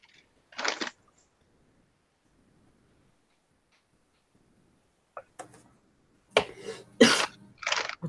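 A single cough breaks the near silence, then after a pause a cluster of harsher coughs and breathy bursts follows close to the microphone.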